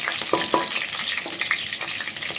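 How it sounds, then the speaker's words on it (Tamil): Small pieces of ginger and green chillies sauté in hot oil for an onion chutney, giving a bright, dense crackling sizzle with several quick stirring scrapes close by. "சின்ன சின்ன துண்டுகளாக இந்த மாதிரி இஞ்சி நல்லா வதக்கிக்கிறோம்"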